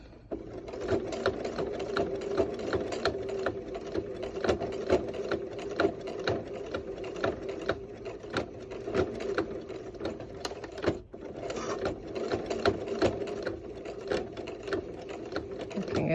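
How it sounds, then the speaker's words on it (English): Sewing machine stitching a fabric hood and back stitching, a fast even run of mechanical needle clatter with a steady motor hum, close and alone with a brief pause near the end. "go over those first couple stitches. I'm going to back stitch."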